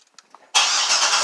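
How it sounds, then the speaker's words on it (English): A Chevrolet Corvette C6 fires up after a few faint clicks, its engine catching abruptly into a loud, steady, broadband roar that holds close and even for the rest of the moment. "So for that, I need to start the car and put it in reverse."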